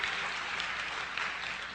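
Audience applause at a talk, a steady broadband wash of many hands clapping at even loudness throughout, with no voices over it.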